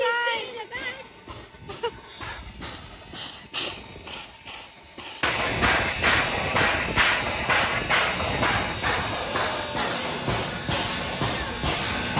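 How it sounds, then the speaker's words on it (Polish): A steam train hisses and chuffs with rhythmic bursts, growing louder and steadier partway through, while people talk nearby in the countryside. "To jest właśnie ten pociąg."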